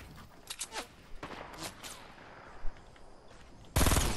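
Guns fire in rapid bursts during a squads match in a shooter video game, scattered rattling volleys mid-distance, closing with a louder close-range burst at the end.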